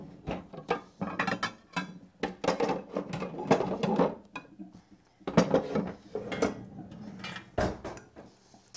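Serving utensils clink and scrape against plates and a pan while paleo beef schnitzel with mushroom sauce is dished up, a series of close, irregular metallic knocks and taps with short pauses between them.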